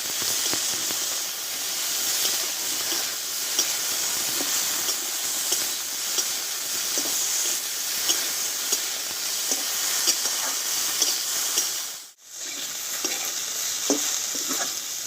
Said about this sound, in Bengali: ঢেঁড়সটা কিন্তু আমি ভালোভাবে কষিয়ে নিয়েছি